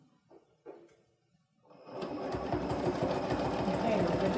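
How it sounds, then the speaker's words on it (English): A sewing machine stitching a workshop-kit panel starts up after a couple of quiet knocks and then runs steadily with a fast, even mechanical whir and chatter, close and loud. "So as I'm sewing, I'm actually pulling tension on this."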